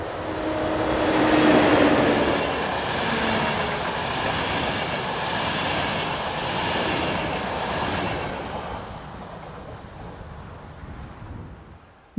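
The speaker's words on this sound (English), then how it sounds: "Locomotive number 1116192 returns from Deutschkreuz with its train bound for Bratislava" Austrian locomotive 1116192 hauls a passenger train bound for Bratislava past a level crossing near Neufeld, a loud continuous rumble of wheels on rail that slowly fades as the train moves away, with faint squeals overhead.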